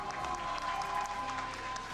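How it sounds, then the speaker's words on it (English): Crowd applause for the San Francisco Shock at an Overwatch League esports broadcast, a continuous wash of clapping and cheering heard at a distance, steady and moderately quiet, with faint tonal broadcast sounds underneath. "can we give it up for the San Francisco Shock one more time?"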